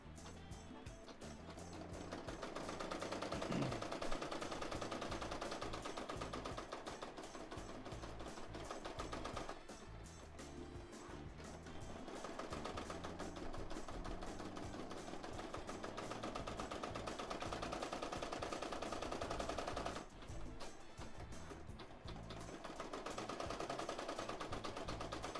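An embroidery sewing machine stitching out silver thread runs steadily with a rapid, rattling mechanical rhythm throughout, briefly dipping at a couple of moments before carrying on at even loudness.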